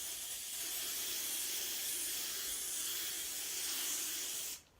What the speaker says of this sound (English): we're gonna spray everything because the boy is still sick